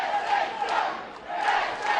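Around a thousand fans packed into a wrestling venue in Canton, Georgia, roaring and chanting in two swelling waves with a brief dip between them.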